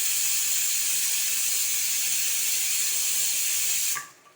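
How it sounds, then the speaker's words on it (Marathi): A pressure cooker whistle lets off steam in a loud, steady hiss that holds for about four seconds and then cuts off abruptly, with nothing else heard. "विजिल आलं, एक विजिल."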